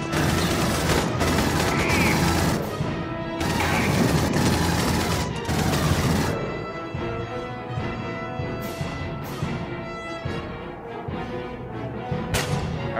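APC turret gunfire in the video game Aliens: Colonial Marines, rapid bursts of heavy automatic shots with booming impacts, dense at first and then thinning into scattered volleys.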